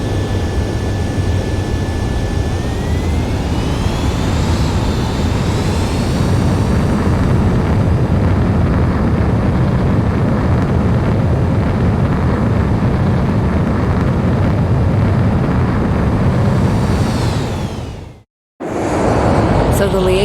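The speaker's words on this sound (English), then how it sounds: "The base commander's transport craft is taken off. It's flying alongside Spare 2." A transport aircraft takes off in a video game, its jet engine roaring loud and steady with a rising whine before cutting out abruptly near the end.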